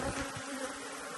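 Honey bees buzz in a dense, steady drone at a beehive, close and continuous throughout with no talking.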